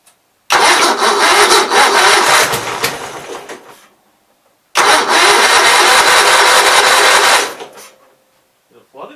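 A carbureted small engine with a newly swapped 8163-T carburetor cranks and catches in two loud sustained bursts, each running a few seconds before dying, with a short silent gap between and a faint sputter after.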